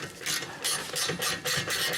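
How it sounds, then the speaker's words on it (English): A ratchet works a brake caliper slide bolt loose on a Ford Edge, bursts of rapid clicking in short regular strokes, close and fairly quiet, with no talking. "Just gonna remove that slide bolt inside of the side."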